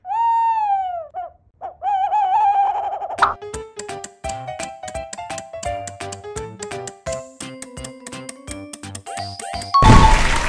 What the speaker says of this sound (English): Owl is the correct answer.